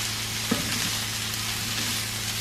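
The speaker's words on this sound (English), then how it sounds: "Turn it down to number 5 so it can simmer without burning." A pan simmering on a stove turned down to a medium setting, a steady close sizzle and bubbling with a small clink near the start, no talking.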